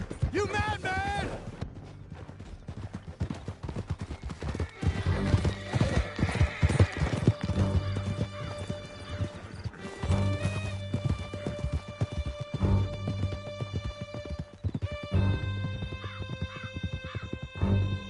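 Horses galloping in the Western game Red Dead Redemption 2 give a steady, fast clip-clop of hooves that runs throughout, with whinnies, music and character voices on top.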